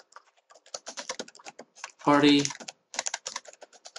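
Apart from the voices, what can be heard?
typing on a computer keyboard into an Excel cell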